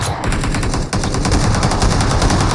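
Rapid automatic gunfire from a shooter video game rattles in a dense, loud, continuous stream of shots with barely a pause.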